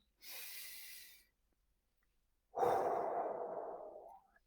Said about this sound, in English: As we take those deep breaths in through our nose